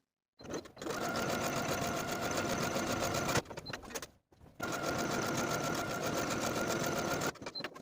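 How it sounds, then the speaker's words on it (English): A sewing machine stitches horizontal buttonholes on the back bodice of a 1940s-style blouse, running in two long, fast, even bursts of rapid mechanical chatter separated by a short pause, close and clear with no talk. "And now I'll sew each of the horizontal buttonholes in place."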